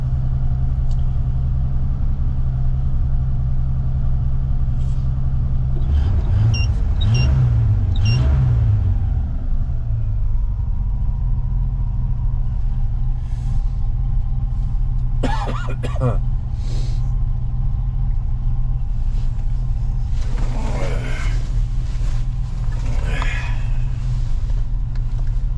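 A 1976 Chevrolet Nova idles and pulls away with a loud, steady engine rumble close by. A few brief louder bursts and rattles break through midway, and people talk over the running car.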